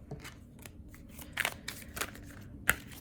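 Tarot cards are shuffled by hand in a series of quiet, irregular papery riffles and soft snaps, close by with no talking.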